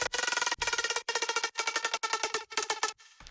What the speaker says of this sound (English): We're going to be making this like little TikTok sound. It sounds like this.